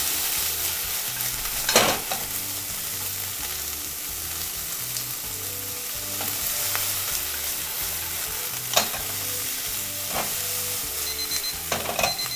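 Bean sprouts stir-frying in a frying pan with oil, salt and yuzu kosho, a steady close sizzle broken by a few sharp clatters of a utensil against the pan.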